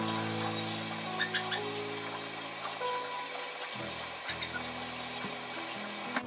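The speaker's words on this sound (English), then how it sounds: "we're going to give it a rinse before we put it in the dehydrator" Freshly harvested oregano gets rinsed under a running tap, a steady close rush of water into a sink with a low pump-like hum and small splashes as the sprigs are moved.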